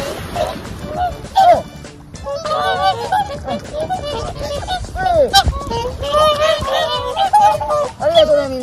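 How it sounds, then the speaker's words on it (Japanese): A crowd of swans honks and trumpets repeatedly while being fed, overlapping calls near and loud throughout, with people talking among them. "喜んでるね、白鳥さん。"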